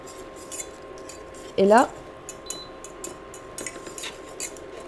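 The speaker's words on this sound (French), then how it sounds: "j'ai mélangé rapidement au fouet" A whisk rattles quickly against a pan as flour is beaten into boiling choux pastry dough, a run of light rapid metallic ticks with a brief voice midway, close and fairly quiet.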